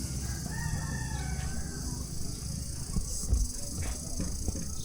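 A rooster crows in a rural village with free-range chickens, moderately distant and fairly faint, over a steady outdoor background hum.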